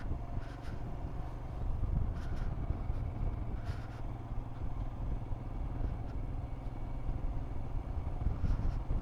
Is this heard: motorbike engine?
yes